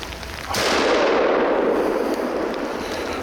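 A rifle shot fired at a bull moose on an Alaskan hunt, one sharp loud report followed by a long rolling echo that slowly fades outdoors.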